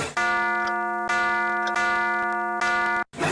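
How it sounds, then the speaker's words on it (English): Render sound from y2k CD-ROM scene builder software: a loud, harsh electronic chime of stacked steady tones that sounds in three near-identical bursts, each restarting with a click, before cutting off abruptly. "you can click a button for it to render, and it just makes this horrible sound."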